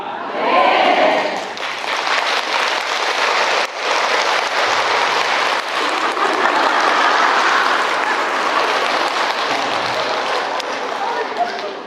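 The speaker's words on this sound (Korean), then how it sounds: "박수 좀 그만 치소" Worshippers at a Catholic parish church clap together in a dense, continuous roar of applause that holds steady and fairly loud for several seconds, with a brief lull partway through.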